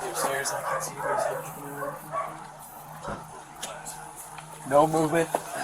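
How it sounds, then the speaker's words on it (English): Several big dogs barking upstairs during a police search warrant entry, muffled yips and barks from a distance mixed under officers' talk. "Multiple dogs. I don't know, they sound big."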